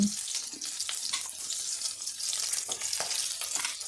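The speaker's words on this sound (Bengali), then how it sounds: "এদিকে ফোড়নে তেজপাতা শুকনো লঙ্কা জিরে হিং" Whole spices — bay leaf, dried chili, cumin and asafoetida — tempering in hot oil, giving a steady close hiss of sizzling with small crackles and pops throughout, no voices.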